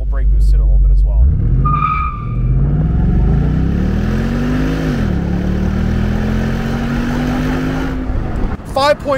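A Ford Mustang GT launches from a standstill for a 0-60 run, its tires spinning and squealing as the V8 engine climbs in a long rising roar, loud and close, then shifts and keeps pulling.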